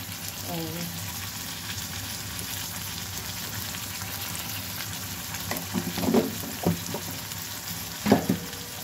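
Ground cumin spice paste fries for a beef tripe curry, giving a low continuous sizzle with a few scraping stirs and knocks of a utensil against the pot near the end, moderately quiet and close.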